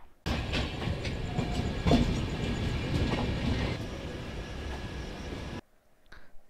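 The 22946 Dwarka-Mumbai Central Saurashtra Mail rolls through a station with a loud, continuous rumble and rattle of carriages that cuts off abruptly near the end.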